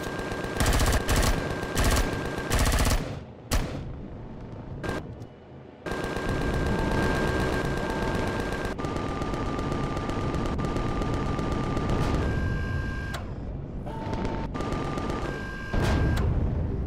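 Heavy bursts of gunfire from ship-mounted weapons in the space survival game Empyrion Galactic Survival, loud and sustained with rapid repeated shots, a few brief pauses and sharp blasts scattered throughout.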